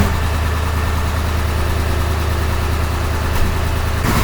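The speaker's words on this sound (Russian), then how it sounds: "Сейчас запустим двигатель, проверим, как будет чихать или нет." A KamAZ truck engine idles in a loud, steady diesel clatter with a low, even throb, heard close and alone with no voices.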